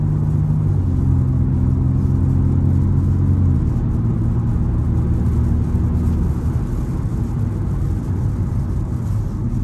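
Race car accelerating out of the first corner at Fuji Speedway, heard from on board as a loud, steady engine drone with a shifting pitch and a constant rumble underneath.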